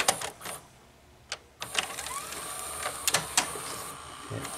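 Hitachi VCR with a dirty mode switch threading a video tape: soft motorized whirring with a few sharp mechanical clicks and clunks, close and fairly quiet, no voices.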